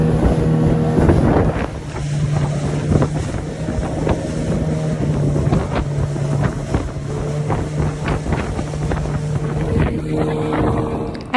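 A passenger boat's engine running on a journey out of Lagos toward Benin, a loud steady droning motor hum with wind buffeting the microphone and splashing water throughout, no talking.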